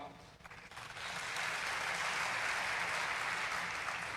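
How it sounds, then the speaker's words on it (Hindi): An audience at an Independence Amrit Mahotsav gathering in Sagar bursts into applause, starting faint and scattered, then swelling into steady, continuous clapping that holds to the end. "पर आपने ताली इसलिए बजाया"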